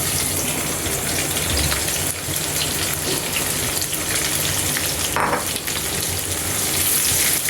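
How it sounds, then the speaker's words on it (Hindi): Sliced onions frying in hot oil with cumin and black pepper give off a loud, continuous sizzle, with a brief scraping stir partway through. It is close and steady and there is no talking. "2 से 3 मिनट हम प्याज को फ्राई करेंगे।"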